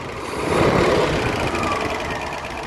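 A 1972 Range Rover engine idles at around 750 rpm, a steady, even mechanical hum heard close and alone with no talking.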